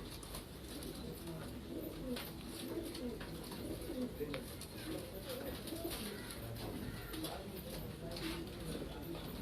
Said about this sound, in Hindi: लाल जालदार कबूतर हैं जी, बहुत खूबसूरत माशाल्लाह कबूतर है।